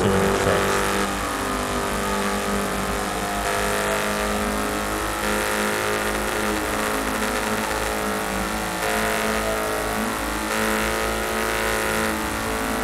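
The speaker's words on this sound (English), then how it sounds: "This Durango's too loud" A Dodge Durango engine roars loudly in the video game GTA 5 during a highway patrol drive, a constant heavy drone with rising and falling revs and music layered underneath.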